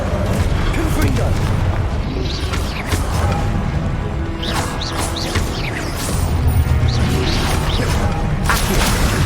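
Confringo blasting spells explode repeatedly in Hogwarts Legacy, heavy booming blasts and crackling debris layered over continuous loud combat noise, with a voice calling out spell names.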